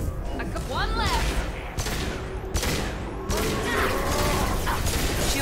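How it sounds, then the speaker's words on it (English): Impact shot weapon fire in Mass Effect 2, several sharp heavy blasts spaced through the stretch amid combat noise and mechanical clatter, with voices calling out between shots. "Firing an impact shot!"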